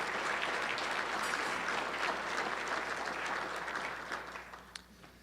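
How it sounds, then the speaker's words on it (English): Attendees at a regional leaders retreat give a sustained round of applause that holds steady and fills the room, then thins out into a few last scattered claps. "Let's give these folks a round of applause and thank them."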